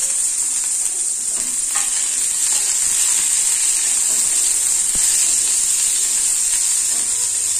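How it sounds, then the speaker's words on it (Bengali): Peanuts fry in a pan with onion and green chili in a loud, constant sizzle and hiss, heard up close, with occasional stirring clinks and no talk. "বাদামটাকে হালকা নাড়াচাড়া করে নেবো, আর পেঁয়াজ আর কাঁচা লঙ্কাটাকেও দিয়ে দেবো বাদামের সাথে।"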